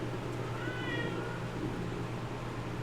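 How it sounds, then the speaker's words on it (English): A cat gives a short, clear meow that rises and falls in the middle of a brief stretch. A steady low hum sits underneath and no one talks. "And you see a cat kind of walking across."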